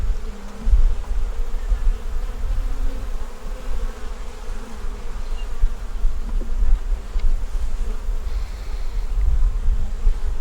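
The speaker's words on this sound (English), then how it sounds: "All them bees hanging, they're building out the foundation." A steady, dense insect buzz from many honeybees close by on a hive frame building out foundation, continuous throughout with a low droning hum and occasional louder passes.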